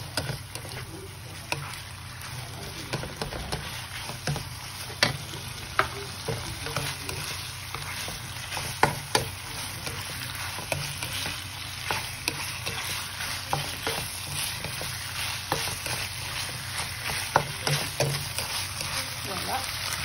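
Chicken stir-fried in a pan with oyster sauce on high heat, a constant close sizzle with scattered scraping and clacking stirring sounds over about twenty seconds, no talking.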